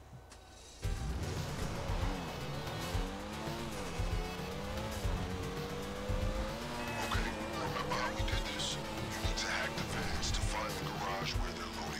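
Car driving in Grand Theft Auto V Online, with a steady engine drone, shifting revs and occasional tire squeal running loud and continuous after a brief quiet start, under a voice talking.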